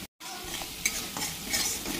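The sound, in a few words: frying garlic, cumin, turmeric and salt in pan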